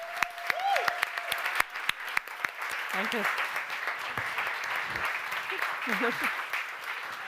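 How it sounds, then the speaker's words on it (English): Audience applause at a New Year's event, steady clapping from a gathered crowd that carries on throughout while a person speaks briefly over it near the start. "now you will hopefully also deserve the well-deserved applause now"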